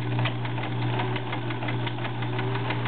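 Vintage Kenmore model 1703 sewing machine running a wide zigzag stitch, a steady close mechanical hum with a fast rhythmic knocking of the needle, continuous and fairly loud throughout, with no talking.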